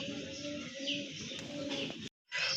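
Rajgolla pigeons cooing close by, a soft continuous coo with some chirps, cut by a brief silent gap near the end.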